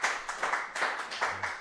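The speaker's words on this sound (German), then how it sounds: "So, Applaus nach Marzahn." A poetry slam audience at a live event applauds a performer, with steady rhythmic clapping that swells and recedes in quick pulses, filling the room without voices over it.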